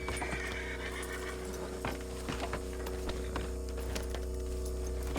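Horses moving in Red Dead Redemption 2 during a cutscene, with hoof clatter, jangling tack and a whinny over a steady low hum and busy game sound, loud and close throughout.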